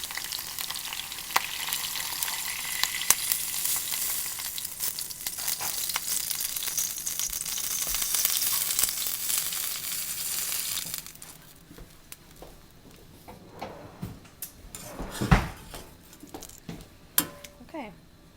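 Garlic, rosemary and thyme sizzling in oil for a herb roasted prime rib au jus, a steady bright frying hiss for the first ten seconds that then thins into softer crackles and stirring clinks, with talking alongside.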